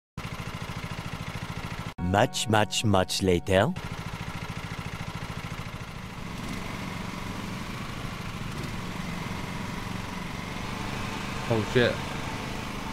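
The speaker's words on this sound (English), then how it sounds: "Right, I need to start the vehicles, the engine." A lawn mower engine in a video game runs as a steady mid-pitched hum for several seconds. Someone speaks briefly over a short burst of game sound before the engine drone.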